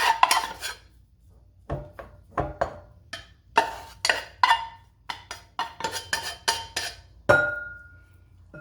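Cooked couscous being stirred in a bowl, with a series of short scraping clinks of a utensil against the dish, separated by brief pauses.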